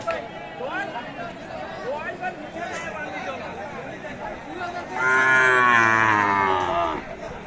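Sahiwal bull calves and cattle at the Aftabganj cattle market, mooing nearby in a long drawn-out call toward the end, with market chatter and crowd noise throughout.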